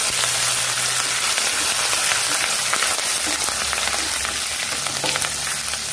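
Ginger and curry leaves fry in hot oil in a pan for an evening vegetarian snack, producing a loud, continuous close-up sizzle with dense crackling throughout and no voices.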